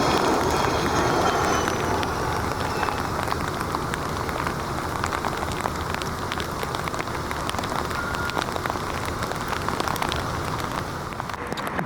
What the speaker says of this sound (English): the rain is starting to lighten up.